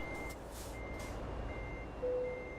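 A truck in Euro Truck Simulator 2 sounds its reversing alarm, a steady series of evenly spaced electronic beeps over a constant engine drone, with a brief lower tone near the end.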